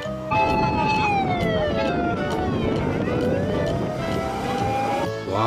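A toy fire truck siren wails continuously with rising and falling electronic tones, loud and close, ending abruptly.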